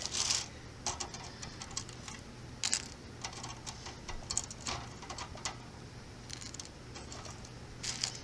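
Dried tomatoes pulled by hand off a food dehydrator tray, heard as repeated short crackly, papery rustles and scrapes in close, quiet bursts, with no voices.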